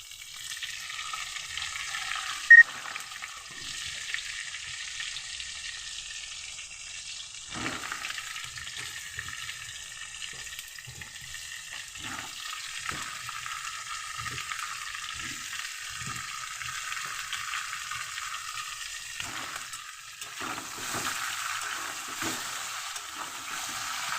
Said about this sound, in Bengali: দেখো আলুটা বেশ লাল লাল করে ভাজা হয়ে গেছে এবার আমি বেগুনটা দিয়ে দিচ্ছি